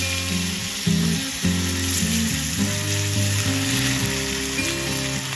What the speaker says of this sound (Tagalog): Okay na yung prito natin